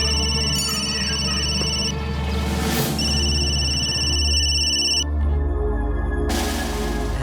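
A telephone rings in a Bengali crime drama scene, its electronic ring repeating in bursts over a steady low background hum.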